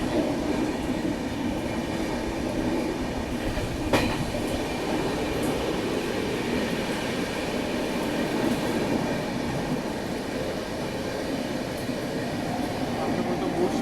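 A long train pulled by five locomotives rolls past in a mountain setting near Khandala, a steady loud rumble of wheels and wagons with a brief sharper click near four seconds and no talk.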